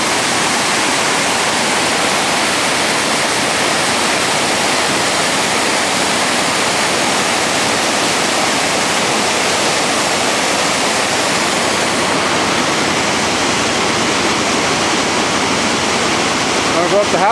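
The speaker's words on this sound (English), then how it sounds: "this little cascadic water here is going to get pretty rugged" Rain-swollen water cascades down a rugged stream with a loud, continuous rushing roar heard close by, steady throughout.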